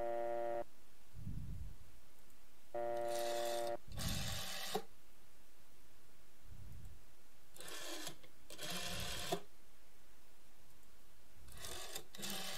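A telephone rings in the horror game Marta Is Dead: electronic trilling rings in separate bursts with gaps of near-silence, fairly faint and distant, with low thuds between them.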